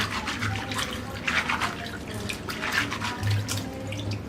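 Soaked soybean dal is washed and rubbed in water to loosen the husks, giving a steady sloshing, splashing wash with brief swells, close and alone.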